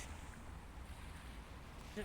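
Waves wash steadily onto a wide sandy beach near Kavala, Greece. The surf is faint and distant, mixed with soft wind noise.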